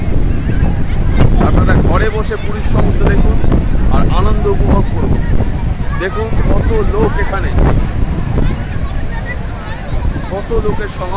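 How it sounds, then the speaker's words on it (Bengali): Sea waves at Puri beach roll and break in a steady, loud wash mixed with wind buffeting, while a crowd murmurs and voices talk close by throughout. "দেখুন পুরীর সমুদ্র"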